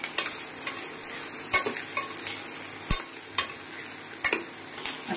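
Eggplant pieces fry in hot oil with garlic, green chilies and curry leaves, giving a steady sizzle broken by several sharp stirring clatters, close and moderately loud, with no voices.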